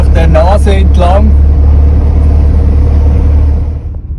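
A car drives along a narrow forest track in the Vosges, with a steady low engine drone and road rumble throughout, a person talking over it early on, fading slightly at the end.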